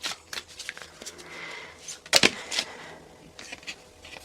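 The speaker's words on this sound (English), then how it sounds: "I'm going to lay 3 cards face down on the table." Tarot cards are dealt face down onto a table in a quick run of close, crisp slaps and slides, with a sharper flurry of card sounds near the middle.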